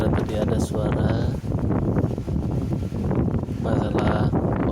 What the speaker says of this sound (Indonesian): kita merasakan angin yang cukup kencang